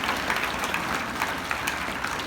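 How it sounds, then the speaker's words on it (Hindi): Steady applause from a school audience, a dense wash of clapping that holds at an even level throughout, with no voices over it. "एक बार जोरदार तालियां बजाओ उस स्टैंडर्ड के लिए।"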